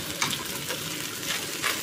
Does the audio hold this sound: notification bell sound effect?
no